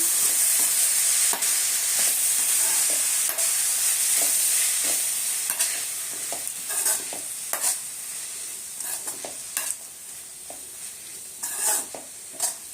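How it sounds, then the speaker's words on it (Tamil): Banana flower being stirred in a frying pan, a steady sizzle under repeated scraping strokes of a spatula that grow sparser and quieter as the sizzling settles. "அதை சேர்த்துக்குவோம் சேர்த்து நல்லா கிளறி விட்டுடலாம்"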